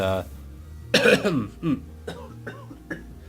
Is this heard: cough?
yes